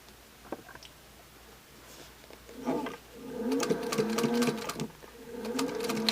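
A sewing machine with a clear foot stitches binding along a fold in bursts, starting with a few soft clicks and then running in rapid mechanical chattering stretches, close and fairly quiet.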